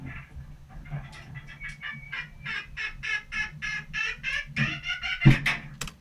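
A squeaky door hinge after noise reduction, giving a run of creaky, gobbling squeals that repeat in quick pulses over about six seconds at moderate volume, ending in a sharper knock.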